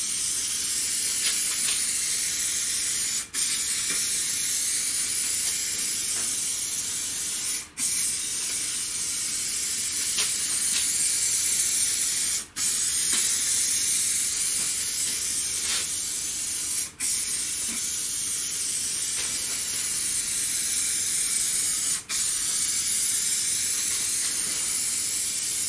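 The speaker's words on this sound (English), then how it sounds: "Nice even spray." A rattle can of spray paint hisses in a long, steady stream over a car bonnet, with brief breaks every few seconds as the nozzle is released and pressed again. The hiss is loud and close, with no talking.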